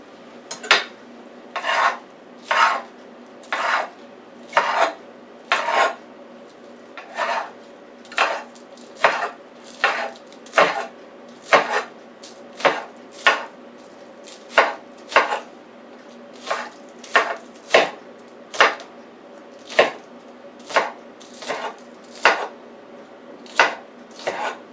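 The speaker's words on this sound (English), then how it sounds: "And I'm going to cut the scallions up." A knife chops scallions on a cutting board in a steady series of crisp, close taps, about thirty evenly spaced strokes with short pauses between them.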